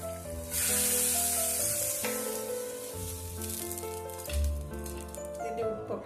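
Hot tempering is poured into a tomato coconut curry, setting off a loud, steady sizzle that holds close and bright for several seconds before easing slightly toward the end.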